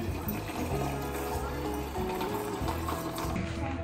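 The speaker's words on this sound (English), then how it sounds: "Now do water. Fill it all the way up." Running water pours into a container being filled to the top, a steady liquid rush at moderate level with low tonal hum from the room underneath, and no voices.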